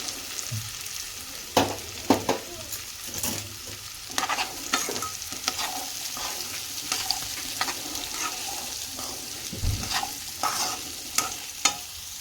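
Soaked green peas hitting a hot pan and frying with a steady sizzle, broken by repeated stirring scrapes and clatters of a spoon, close and fairly loud.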